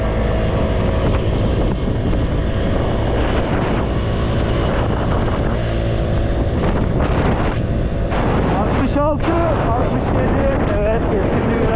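A Honda SH 125i scooter engine strains uphill with a steady, loud drone. Heavy wind roar buffets the microphone throughout, with a few sharper rising whines near the end.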